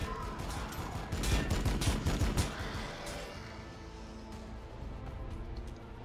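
Gunfire in Warhammer 40K Battlesector comes as a dense, crackling burst of rapid shots that swells and then fades into a steadier low battle rumble.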